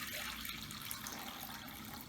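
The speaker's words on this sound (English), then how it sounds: "First, we're going to fill this bowl with water." Water steadily pouring into a bowl from a tap, a continuous close rushing splash with no pauses and no talking.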